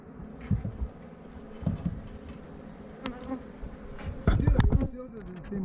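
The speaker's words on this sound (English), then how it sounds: "there's a ton of bees right there" Bees buzzing in a large beehive built inside a wall, a dense steady drone close by, with scraping and knocking as the wall is pulled apart.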